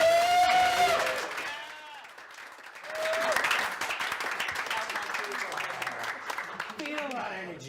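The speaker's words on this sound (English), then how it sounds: "Give us a round of applause." A small studio audience at a leadership race results show applauds, with a few seconds of clapping following a speaking voice and continuing at moderate level with some voices over it.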